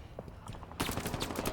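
Shotgun blasts in the video game Halo Infinite, a quiet stretch then a sudden loud burst of gunfire from about halfway, with rapid repeated reports and crackling close up.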